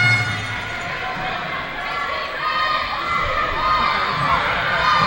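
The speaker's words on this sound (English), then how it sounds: "The crowd gives her a round of applause" Crowd noise in a gym during an ACAC championship college basketball game, a steady roar of cheering and clapping from the stands with a commentator talking over it throughout.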